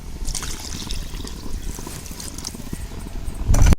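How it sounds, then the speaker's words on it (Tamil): A cup of water is poured from a jar into a pan of vegetable kurma, a loud close trickling stream that runs steadily and swells into a heavier splash at the end. "இப்போ இந்த ஜார்லேயே நான் ஒரு கப்பு தண்ணி ஊற்றி வச்சுருக்கிறேன். அதை இதோட சேர்த்திக்கலாம்."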